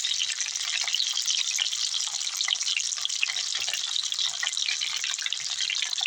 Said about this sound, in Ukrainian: Отак, щоб смажу з обох сторін, а потім вже будемо тушкувати підсмажуємо